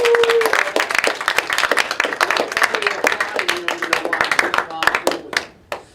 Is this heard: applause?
yes